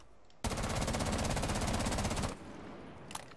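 A pistol fires a fully automatic burst, a continuous rapid rattle of shots lasting about two seconds, loud and close, before it cuts off to quiet room noise.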